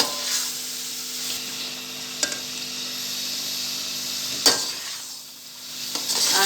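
Potatoes and peas sizzle steadily in a frying pan for an aloo sabzi, with occasional scraping clinks of a spoon stirring them, moderately loud and close with no talk.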